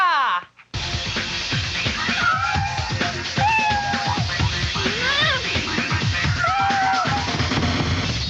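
A kitten meows repeatedly and insistently, sharp rising and falling cries close up over several seconds, with people talking over it in the background.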